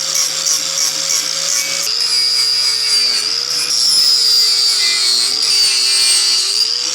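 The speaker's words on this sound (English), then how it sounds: "Just going through with a flap disc here and cleaning up everything, getting rid of the paint, leveling stuff out" A flap disc grinding paint off a steel A-frame gives a continuous, loud, close-up abrasive hiss over a steady motor whine that dips slightly as pressure on the metal changes.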